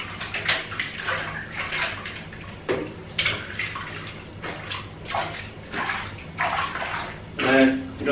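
Golden pheasant heads washed and swished in a container of water, with close splashing and sloshing bursts between pauses while a person talks intermittently.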